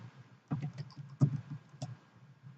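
Typing on a computer keyboard while logging into Padlet: a few clustered key taps in short bursts over a soft low hum, close and fairly quiet, with no talking.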